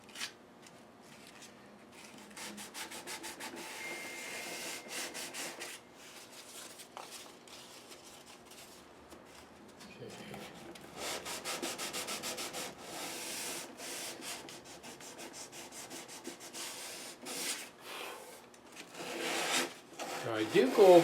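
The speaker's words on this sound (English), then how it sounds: "this is 400 grit, so we'll go 400, 600, and then we'll do our 40 steel wool" Sandpaper of 400 and 600 grit rubs by hand over a ten-string classical guitar, giving soft, steady scratchy strokes in uneven bursts that grow rougher and louder toward the end.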